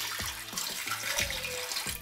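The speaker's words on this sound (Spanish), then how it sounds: "echar agua de la que ya tengo hace 2 días" Water is poured from a container over aquarium gravel held in a strainer, a steady splashing trickle with small clicks of wet stones, close and alone without speech.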